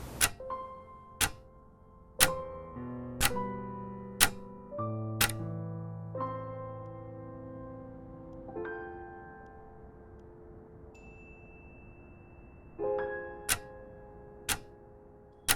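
A clock's second hand ticks as a sound effect, giving crisp single clicks about once a second while sustained bell-like tones ring and fade between them.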